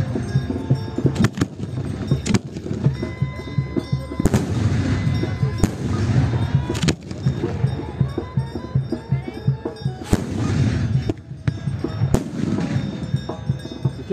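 Firecrackers and bomb rockets burst repeatedly during a street festival procession in San Mateo Tlalchichilpan, State of Mexico, with sharp loud bangs at irregular intervals over constant crowd noise, music and some talking.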